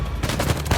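Rapid bursts of gunfire from the video game Uncharted 4: A Thief's End crackle in quick succession, loud and dense with repeated sharp shots.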